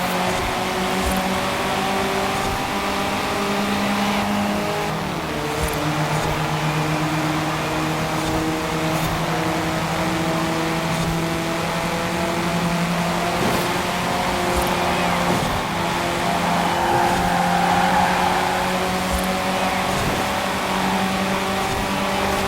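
A stock Toyota Celica and Ford Escort race in Forza Horizon 4, engines droning loudly and continuously with sustained high revs and small pitch shifts as the cars push through the lap.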